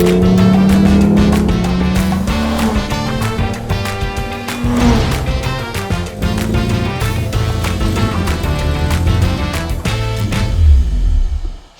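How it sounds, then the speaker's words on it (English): An open Aston Martin DB3S engine pulls hard after a downshift, a loud continuous rasping roar that rises and falls with gear changes before cutting off abruptly at the end. "Shift down a gear and step on the accelerator."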